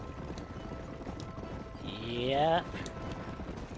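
Horse hooves clip-clop in Red Dead Redemption 2 beneath game ambience, with a horse's whinny rising loudly near the middle and a person speaking briefly.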